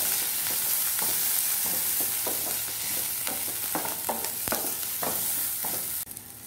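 Asafoetida frying in hot oil for poori bhaji, a soft continuous sizzle broken by repeated scraping and tapping of a stirring spoon, ending in a brief louder hiss, with no one speaking.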